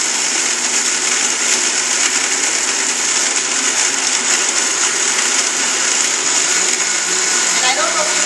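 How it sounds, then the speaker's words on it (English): Two commercial blenders, the kind used at Jamba Juice, whir loudly and steadily at high speed, a dense continuous roar that fills the space, with a voice faintly present. "Person number 2 will be running the blenders, and so they will have 2 blenders going."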